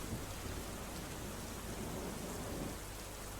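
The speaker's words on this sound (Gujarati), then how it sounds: "વરસાદી માહોલ જામ્યો" Steady, heavy pre-monsoon rain in Ahmedabad hisses evenly without pause, a dense wash of falling water at constant loudness.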